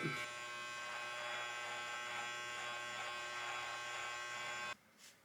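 Electric hair clippers buzz steadily and close up while cutting a self-done taper fade, a continuous motor hum for about five seconds that cuts off abruptly near the end.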